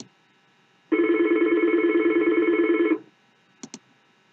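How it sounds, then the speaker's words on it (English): A virtual phone running in the Chrome browser dials out with a single loud electronic ringing tone lasting about two seconds, followed by two short clicks. "And it will start dialing that number."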